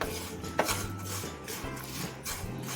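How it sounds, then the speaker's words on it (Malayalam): A spoon scrapes and clinks against a pan while stirring a ground coconut chutney mixture, several short soft strokes in a quiet close-up kitchen. "ഇത് നന്നായിട്ടൊന്ന് ഇളക്കി കൊടുക്കുക."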